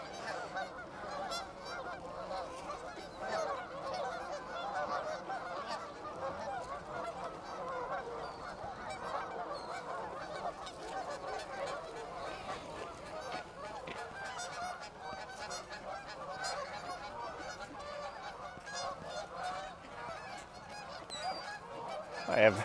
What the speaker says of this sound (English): Seagulls, ducks, geese.